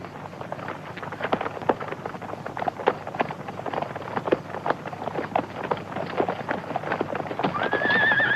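Rapid hoofbeats of several horses galloping close by, a busy clattering rhythm, with a horse whinnying near the end.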